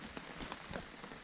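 Steady rain patters on a surface at a building project site, a soft continuous hiss with scattered louder drops and no voices.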